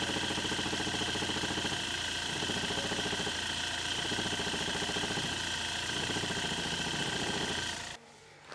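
A Hyundai i20 diesel engine with loose engine mounts idles steadily from a cold start with a rough, rattling vibration, close and loud, then cuts off abruptly near the end.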